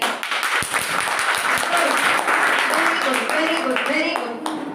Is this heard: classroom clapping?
yes